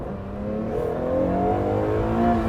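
A 2022 Acura NSX Type S accelerates at full throttle, its engine note climbing steadily in pitch and growing louder over a couple of seconds, heard from inside the car.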